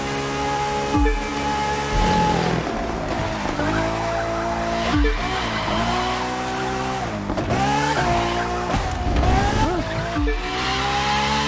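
Car drifting in the racing game The Crew 2, a loud, sustained engine roar with long rising and falling squeals from the skidding tyres, repeating through several slides with no talking.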